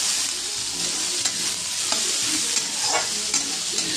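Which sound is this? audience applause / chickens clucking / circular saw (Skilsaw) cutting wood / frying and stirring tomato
frying and stirring tomato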